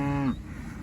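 A cow on a small organic farm pasture lets out a single short moo, loud and close, that cuts off after a third of a second, leaving quiet outdoor background.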